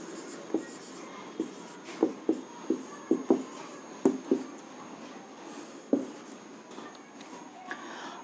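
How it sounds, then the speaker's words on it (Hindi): Pen or chalk writing out the next addition problem in a maths lesson, a series of short scratchy strokes and taps in irregular bursts, close and fairly quiet, with no talk. "अगला क्वेश्चन लिखते हैं हम।"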